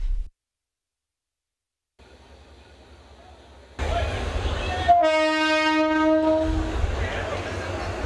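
A train at Colombo railway station sounds a long, loud horn with steady harmonic tones lasting about two seconds, over rumbling rail and station noise. A quieter stretch and a brief gap come before it.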